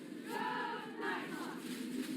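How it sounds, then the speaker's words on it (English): A crowd cheers and shouts outside Del Norte High School as students and staff return to campus on a Monday morning, with cheerleaders and the dance team out front; the loud, steady cheering lasts the whole stretch with two swells. "cheerleaders, and the dance team out front cheering on students and staff Monday morning"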